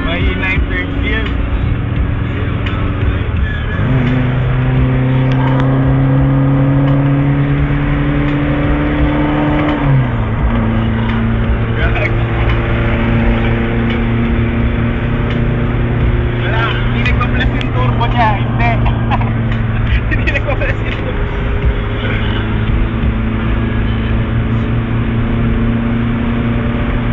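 A twin-carburetor vehicle engine on a road test, a loud continuous drone that climbs in pitch through the gears, dropping at each shift around four and ten seconds, with interior rattles and voices talking over it.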